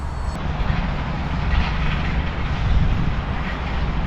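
A small RC model plane drones overhead at steady, fairly loud level, its engine whine and wind rush continuous with gentle swells and no voices.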